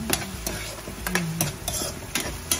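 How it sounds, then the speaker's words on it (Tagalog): Garlic, onion and tomato sauté in a hot pan with a steady sizzle, while a utensil stirs and scrapes in regular strokes, close and fairly loud, with no talking. "Lutuin muna natin ang bawang, sibuyas, kamatis."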